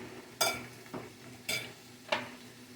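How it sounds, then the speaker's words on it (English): A spoon stirs a cucumber salad dressed with oil and vinegar in a bowl, with four soft, separate scraping and clinking strokes, quiet and close. "And then you just stir that around."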